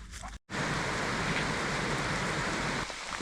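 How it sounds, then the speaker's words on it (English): Heavy rain pours down outdoors: after a brief silent gap, a loud, dense, steady hiss of downpour runs unbroken to the end with no voices. "as you see, it's absolutely pouring down"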